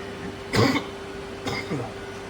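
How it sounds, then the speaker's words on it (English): Two short, dry coughs about a second apart, fairly close, with a steady faint hum underneath. "still trying to kick this cough"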